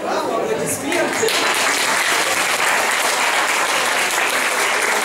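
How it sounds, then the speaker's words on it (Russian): A concert audience bursts into dense, sustained applause, loud and close, clapping steadily throughout without a break. "Браво, аплодисменты!"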